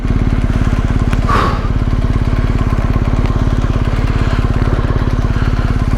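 A motorcycle on a rural Australian road toward the outback, its engine close and loud with a fast, even pulsing throb and one brief thump early on, no voices.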